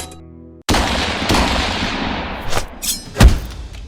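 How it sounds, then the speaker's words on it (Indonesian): A single loud gunshot bursts out in a Batman detective video game after a quiet lead-in, its echo ringing and decaying with a few trailing thuds near the end. "Lalu, ia mendengar sebuah tembakan."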